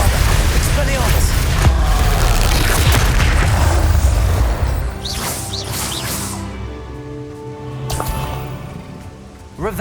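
Magic explosion spell in the Hogwarts Legacy video game: a loud, sustained booming blast with crashing debris in the first half, then fading into lighter whooshing spell effects and a later smaller burst.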